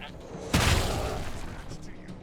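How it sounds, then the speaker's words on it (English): A goat cannon fires in the Wasteland 3 game, one sudden loud boom with a rumbling tail that fades over about a second and a half, while a voice talks. "If you were to goat cannon all of those"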